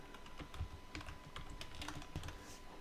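Rapid, light clicks of a computer keyboard as an IP address is typed, an irregular patter of keystrokes, quiet and close, with no talking.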